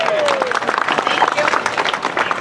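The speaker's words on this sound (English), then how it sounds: "Give Stephanie a round of applause," Audience applause in the Muppet Mobile Lab show at EPCOT for lab assistant Stephanie, a dense patter of clapping with cheers and voices mixed in, plus a brief whistle-like tone near the start.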